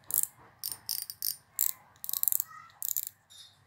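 A Shimano Sienna 3000 spinning reel's drag clicks in quick ratcheting bursts, several short runs of rapid ticks with brief pauses between, close and crisp.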